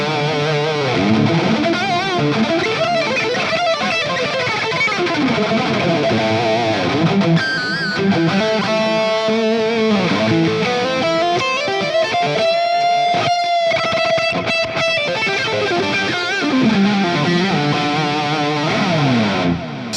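Heavily distorted electric guitar through a Mesa Boogie JP-2C amp with shred mode engaged, playing a fast, dense lead line with sustained bends and held notes, loud and continuous throughout with no talking.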